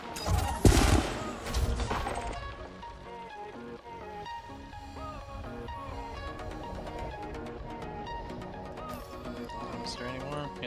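Ship weapons in a space video game let loose a couple of sharp, loud bursts near the start, then a steady layer of musical tones and game hum carries on beneath them.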